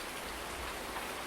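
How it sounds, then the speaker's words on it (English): Steady rain pours down in Farming Simulator 19, a dense, even hiss of drops hitting surfaces that runs unbroken and fairly loud throughout, with no voices over it. "now the rain's not coming through it."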